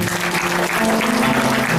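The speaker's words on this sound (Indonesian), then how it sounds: "tepuk tangan buat Tuhan" A congregation claps in a church during a Christmas worship service, dense and steady applause filling the space with a hum of voices underneath.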